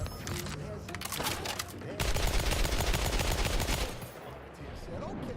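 Dense gunfire in Battlefield 6, with rapid automatic bursts and single cracks crowding together into loud close volleys, and a voice talking at times beneath the shooting.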